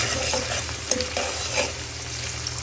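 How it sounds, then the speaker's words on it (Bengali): Chopped onions fry in a pan for mutton curry while a spoon stirs them, scraping and sizzling up close in short strokes over a constant hiss, with no speech. "পেঁয়াজটা হালকা ভাজা হলে পরেই আমি মশলাগুলোকে দেবো। তাই একটু নেড়ে চেড়ে নিচ্ছি"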